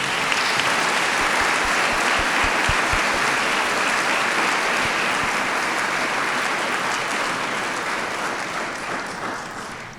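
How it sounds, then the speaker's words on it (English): A large audience at a State of the City event in McKinney, Texas gives a sustained round of applause, dense and even throughout and easing off slightly toward the end. "Let's give them all a round of applause."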